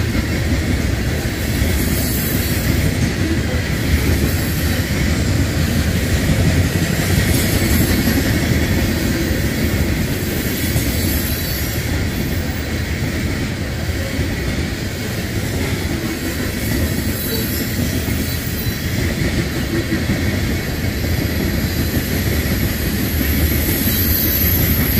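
A long freight grain train rolls past steadily at Woodland Road, Lathrop, Kansas, a continuous rumble of wheels and rail cars with faint squeals, no voices, sustained for the whole stretch.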